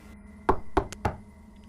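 Inside the Roblox video game, a door takes four sharp knocks in quick succession, hollow and close, with a quiet background before and after.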